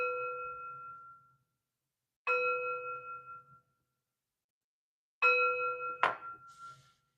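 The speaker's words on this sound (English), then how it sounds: "3 chimes to bring in positive energy." Three chimes rung one after another to cleanse a space, each a clear ringing metallic tone that slowly decays, the last one joined by a sharp clink.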